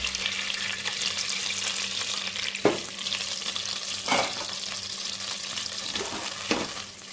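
Bay leaf, cinnamon, cloves, fennel and cardamom frying in oil and melted butter in a pan for mushroom biryani, a steady close sizzle with a few stirring scrapes.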